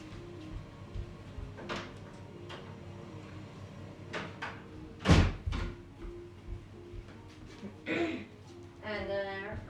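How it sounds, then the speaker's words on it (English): A door in a house is pushed shut with one solid thump midway through, amid quieter handling clunks and creaks, with a washing machine running and a voice talking softly. "so I'm gonna close the door"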